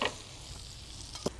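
Butter sizzles faintly in a pan while bananas foster is cooked, a soft steady crackle with a couple of brief sharper spatters near the end.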